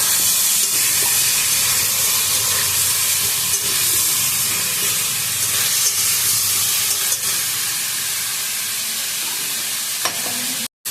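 Garlic and ginger fry in a pan with ground black pepper for a chicken stew with egg, carrot, papaya, beans and potato, a loud, steady close sizzle and hiss with intermittent stirring scrapes.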